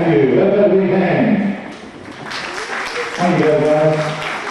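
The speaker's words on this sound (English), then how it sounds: "Have a big hand." Audience at a 1998 live dance studio event applauds the dancers in a sustained burst of clapping, with a presenter's voice talking over it at the start and again near the end.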